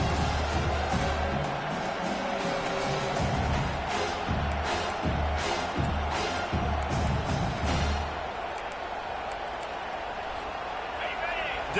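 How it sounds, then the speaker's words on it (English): Stadium crowd roaring at a college football game between Washington and Miami in CFB 25, a broad steady swell of cheering with sharp claps and bangs, loud and continuous, with a commentator talking over it. "Decibels rising as the crowd gets behind this defense on 3rd down."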